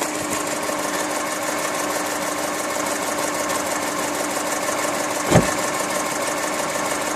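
A car engine idles steadily after a turbo replacement with a catless up-pipe installed, a continuous mechanical hum with a light ticking texture, plus a single brief thump near the end.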